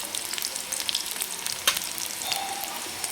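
Something sautéed briefly in a hot pan for a simple village-style breakfast, bright continuous sizzling with occasional spatula clicks and scrapes, near and clear, without any talk.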